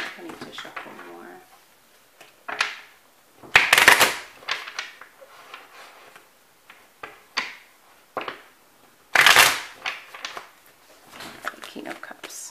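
Tarot cards are shuffled in two quick riffling bursts, with softer handling sounds in between; a person talks quietly throughout.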